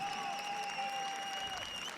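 Spectators applaud steadily as an injured player leaves the pitch at an amateur football match, a continuous wash of clapping from the crowd, with a whistle-like tone running through it.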